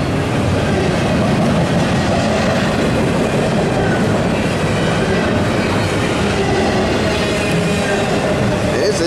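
A heavy Norfolk Southern 222 intermodal double-stack freight train led by three AC44 locomotives rumbles past nearby, steady loud clatter of wheels on rails throughout with a broad roaring wash of noise.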